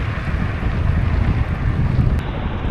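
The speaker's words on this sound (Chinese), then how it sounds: "哇，起风了" Steady wind blowing outdoors in the mountains as yellow leaves fall, a continuous loud rushing roar with no speech.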